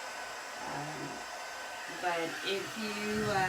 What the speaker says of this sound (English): This is the heating tool. It's kind of like a blow dryer, but it's not.